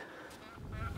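A short burst of goose honking, a brief nasal call or two, fairly faint with some background noise.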